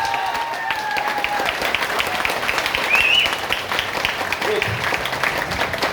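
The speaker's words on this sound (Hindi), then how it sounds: "सभी लोगों के लिए जोरदार तालियां होनी चाहिए प्लीज।" A loud, sustained round of applause from an audience at an Independence Day motivational speech event, dense clapping filling the whole stretch with steady intensity and some voices mixed in.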